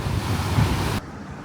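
Strong wind on Rhodes buffets the microphone in a loud rushing roar for about a second, then drops abruptly to a quieter breezy background.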